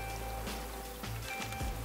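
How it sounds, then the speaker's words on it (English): Rain falls in the survival game Raft, a steady soft hiss of drops over a low ambient drone that runs through the whole moment without a break. "Oh, it's raining."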